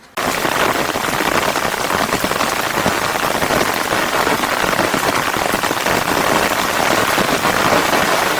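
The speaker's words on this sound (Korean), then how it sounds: "장마비가 내리는" Heavy monsoon rain pours steadily over a small garden, a dense, even hiss of drops on surfaces with no break, close and loud from start to finish.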